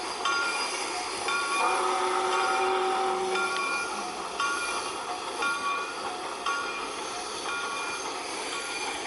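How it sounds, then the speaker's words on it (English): A diesel train's whistle sounds in the Trainz railway simulator as a sustained tonal blast over a continuous rolling rail noise, fairly steady and moderately loud. "I like the whistle. Want to hear it again?"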